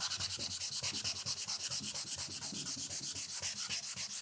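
A custom sign is hand-sanded with vinegar and 320 grit sandpaper in fast, even back-and-forth strokes, a close, rhythmic, raspy rubbing with no voices.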